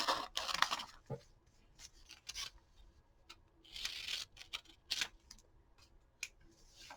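Scissors snip through paper as collage pictures are cut out, giving irregular quick crisp cuts and rustles in close, separate bursts with brief pauses between.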